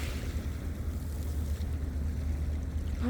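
Heavy sea surf rolls and churns steadily along a shoreline, a broad continuous wash of strong waves with wind buffeting the microphone throughout.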